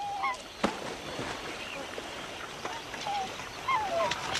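Distant water birds calling with a few scattered quacks and honks over a steady outdoor wash of noise.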